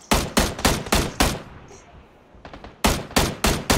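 Loud, close automatic gunfire in the shooter game Battlegrounds (PUBG), two rapid bursts of sharp shots split by a brief lull with a few fainter distant shots.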